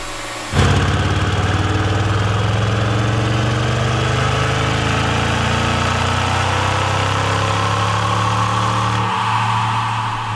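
A small car engine is made to roar, starting abruptly and then holding a loud, steady droning rumble for several seconds before dropping in the final moment.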